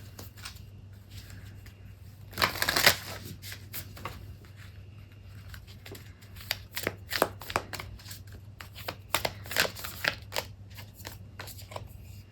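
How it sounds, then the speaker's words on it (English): Moonology Oracle cards are shuffled by hand in a quiet room, a series of sharp, irregular riffling and slapping bursts, with a louder flurry early on. "That was a terrible shuffle."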